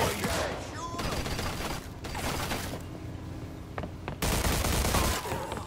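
Gunfire erupts in Mafia II as dense bursts of rapid shots that stop and restart several times, loud and close, with a brief quieter lull between volleys.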